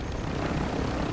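Helicopter flying overhead in a ranked match of a shooter video game, a steady, dense rotor drone that stays loud and unbroken with no voices.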